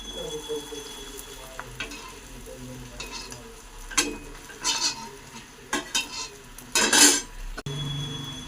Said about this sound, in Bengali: সব চিপগুলোকে আমি লাল লাল করে ভেজে নিচ্ছি